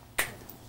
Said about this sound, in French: Claquement de doigts